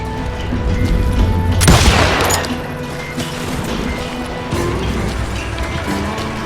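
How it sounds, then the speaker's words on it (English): A shootout in the Western video game Call of Juarez Gunslinger produces a single loud gunshot blast, heard over a droning game soundtrack that continues afterward. "I heard the shots and I knew I had to move fast."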